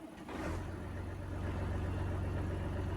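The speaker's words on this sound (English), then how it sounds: "There's our tractor." An old tractor engine in Farming Simulator 25 idles steadily, a low throbbing rumble with a brief rise near the start, then an even, continuous drone close by and alone.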